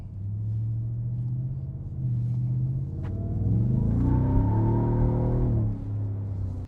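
A Ford F-150 Raptor R truck pulls out of a dealership, its engine a steady low rumble that swells as it accelerates midway, then eases back, close and alone with no talk.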